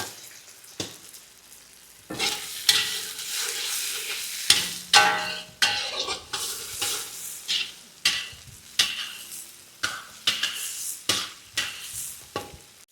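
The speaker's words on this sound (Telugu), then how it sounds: "ఇప్పుడు టమాటా వేసుకోవాలి. టమాటా కాస్త లావుగానే ఉండాలండి." Tomato pieces frying and being stirred in a pan for a hotel-style mango dal, with a steady sizzle broken by repeated scraping stirs at a regular pace, close and fairly loud with no talk.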